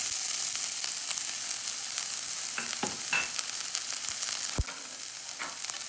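Onion sizzles in hot oil in a heated pan for a butternut squash coconut curry, a constant bright hiss with occasional utensil taps and one sharp knock.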